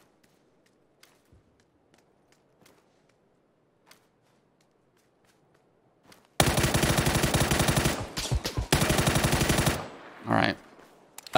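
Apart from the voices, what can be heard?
machine gun spray in PUBG video game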